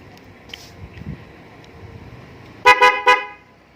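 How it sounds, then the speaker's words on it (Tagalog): Three short loud blasts from a MOCC car horn, close and bright, after a few seconds of quiet background noise. "MOCC horn naman."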